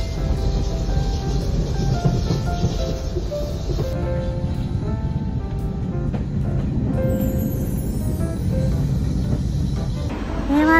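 Bluebell Railway steam locomotive train at a station, a steady loud rumble and clank of rolling stock with faint squealing and hissing, no one talking.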